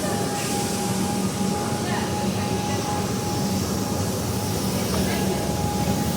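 Interior of a packed Melbourne train in motion, a continuous loud rumble and rail roar with a steady hum, people talking under it throughout.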